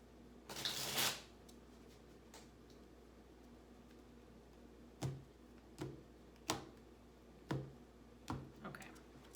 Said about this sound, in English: I gotta give this deck one more shuffle.